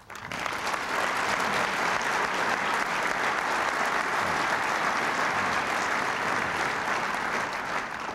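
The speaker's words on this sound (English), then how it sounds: "if one person deserves applause for his efforts today, it's your chairman of the Board of Managers, Edward S. Donnell" An audience at an annual YMCA foundation luncheon applauds in a dense, steady round of clapping that holds evenly loud for the whole stretch after a quick start.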